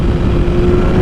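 A 2021 BMW S1000RR M motorcycle with a titanium Akrapovic exhaust roars loudly and continuously in a brief burst of revving, with a dense low rumble and a steady tone running through it.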